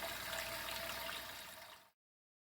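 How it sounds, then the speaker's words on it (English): Water gushes steadily from a tap into a large canning pot for a jar water bath, a loud broad rushing stream that stops abruptly. "I usually fill up the water just below this rim right here"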